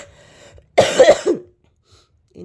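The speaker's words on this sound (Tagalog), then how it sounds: "Inuubo talaga ako guys." A person gives one short, close cough of a few harsh bursts indoors, with quiet room noise before and after.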